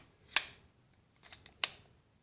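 A Beretta magazine is pushed into a Diamondback DB9FS pistol, making two crisp, close metallic clicks about a second apart with faint handling rattles between them.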